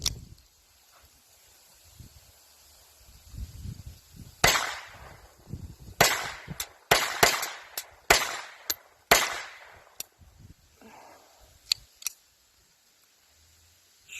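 Jennings .22 pistol gunshots fired at a watermelon outdoors, a quick run of about ten sharp cracks spaced irregularly over several seconds, with quieter handling noise before and after the shots.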